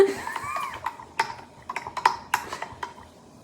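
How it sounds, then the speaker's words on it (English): A spoon clinks and taps against a glass while jam is stirred vigorously into seltzer, making a run of quick, uneven light ticks at close range with faint room sound behind. "stir vigorously"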